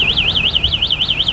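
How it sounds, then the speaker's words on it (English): A mobility scooter's anti-theft alarm blares a loud, continuous electronic siren that warbles rapidly up and down about five times a second, with no voices over it. "Once I move this scooter, it's gonna go off, and it's pretty loud, and it's really good for anti-theft purposes."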